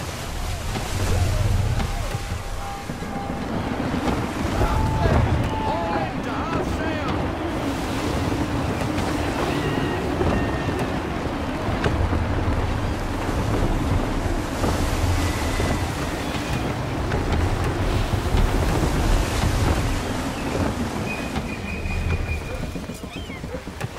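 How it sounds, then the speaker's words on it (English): Gusty wind and ocean waves on open sea while sailing a ship in Assassin's Creed 3, with continuous rushing surf and buffeting wind that swells and eases in waves over the whole stretch. "Gusty winds can be difficult to manage."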